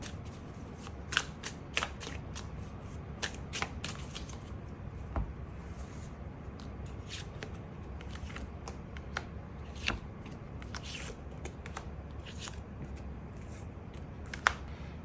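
Tarot cards being shuffled and drawn make soft, quiet papery riffles and light flicks, with sharp card snaps scattered irregularly through a faint background.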